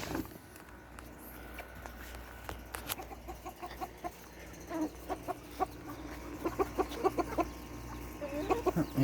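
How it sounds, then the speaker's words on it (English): Chickens cluck in short, scattered bursts on a farm, the calls growing busier and closer toward the end over a steady low background hum, with goats also kept nearby. "Well, there were the little chickens."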